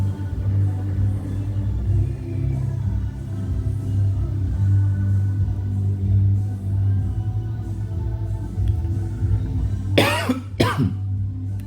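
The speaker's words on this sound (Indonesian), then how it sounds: "batuk lagi." A couple of sharp coughs burst out close by near the end, over a steady low hum with no talking.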